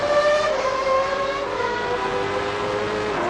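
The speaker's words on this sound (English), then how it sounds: "this is on board with Ayrton Senna round the Melbourne hairpin and firing it" Ayrton Senna's race car accelerating hard out of the Melbourne hairpin, heard onboard as a loud, continuous engine whine climbing steadily in pitch before easing off.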